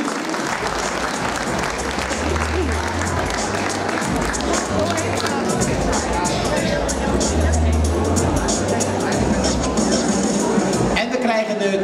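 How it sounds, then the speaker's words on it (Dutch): An audience at a Dutch dog show applauds as Alaskan Malamutes and other spitz-type dogs parade down the catwalk. The clapping is loud and continuous, set over a low crowd rumble and murmuring voices. "Applaus, dames en heren."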